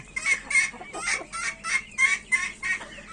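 Rapid, repeated clucking from chickens, about a dozen sharp calls in an uneven rhythm, close and fairly loud.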